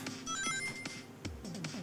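A ringing phone in the video game The Murder of Sonic the Hedgehog, with bright repeated electronic ring tones over a busy game soundtrack, ending quickly.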